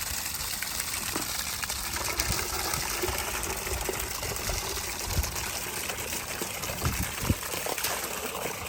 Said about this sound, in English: Both rainwater tanks were overflowing.